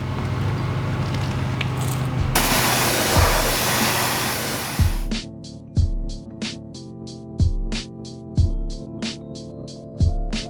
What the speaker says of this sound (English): Then he's going to pressure wash it.